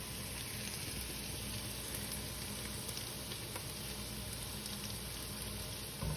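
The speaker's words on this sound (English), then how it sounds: "So I made a little well in the middle here where you can put the tomato paste right on the pan" Tomato paste sizzling in a well in the middle of a pan of cooked meat for a Bolognese sauce, a constant dense hiss with faint bubbling, quiet and unbroken.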